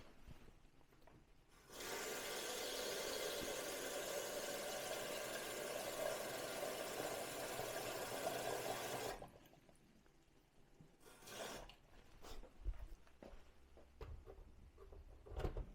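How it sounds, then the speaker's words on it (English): Tap water pours steadily into a Ninja soup maker for mushroom soup, a loud continuous rushing gush for about seven seconds that cuts off sharply, followed by quieter clinks and handling noises. "I'm going to put in the liquid from the tap up to that line."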